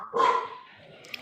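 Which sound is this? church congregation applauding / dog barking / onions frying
dog barking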